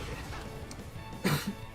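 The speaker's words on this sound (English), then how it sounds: "I've still got a bit of a lingering cough" A person with a lingering cough coughs during a gaming livestream, a couple of sharp, close bursts near the end following a stretch of quieter background sound.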